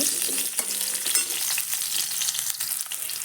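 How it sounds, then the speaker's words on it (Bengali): Potatoes frying in oil reused after frying eggplant for a Bengali mixed vegetable dish, a steady loud sizzle with occasional scraping stirs running throughout, no voices. "এবার ওই একই তেলেই দিয়ে দেব আলুটা আলুটা দিয়ে একটু ভেজে নেব"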